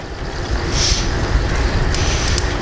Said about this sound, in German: Man hört hier nur das Rauschen vom Fluss.